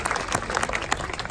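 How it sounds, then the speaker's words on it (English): Graduation ceremony crowd claps for the arch bearers, a short burst of dense, close applause lasting just over a second. "Let's give a round of applause to our arch bearers."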